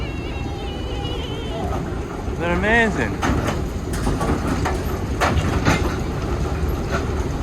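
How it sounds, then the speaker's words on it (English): Old-school quarry excavators at a vintage quarry show tick over at a steady idle, a deep continuous rumble with wind buffeting the microphone, a brief whistling tone partway through, and a person speaking close by. "None of the engines are screaming, they're just ticking over, nice and steady."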